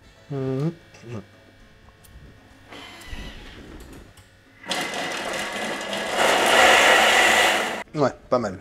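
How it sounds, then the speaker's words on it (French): A small electric blender mixing garlic cloves with the germ removed. A few short bursts are followed by a loud, sustained whirring buzz near the mic that rises, stops abruptly, and is then followed by brief pulses. "Je vais mixer les gousses d'ail qui n'ont plus de germinescence"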